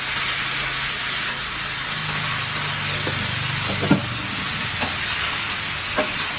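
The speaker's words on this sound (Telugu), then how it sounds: "చికెన్ వేసుకొని బాగా మిక్స్ చేసుకుందాము." Chicken pieces fry in onion masala for a pepper chicken curry. Loud, steady sizzling fills the clip, with occasional scraping and clinks from the spoon stirring the pan. No one speaks.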